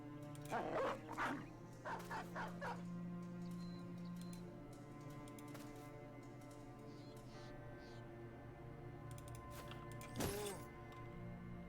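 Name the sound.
dogs released in battle, Battle Brothers video game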